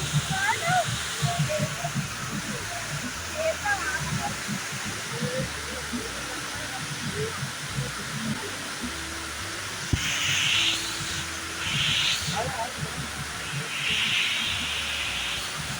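Water from Kothapalli waterfall in Araku rushes under a small bridge among hills, a steady broad roar that runs throughout, with a person talking over it.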